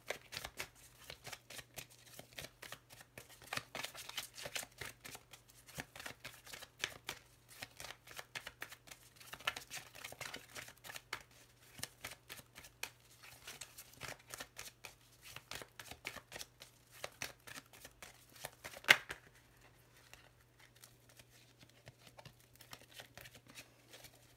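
Lenormand oracle cards shuffled by hand in a steady run of soft, rapid riffling flutters with no talk, under a faint low hum, going quiet near the end.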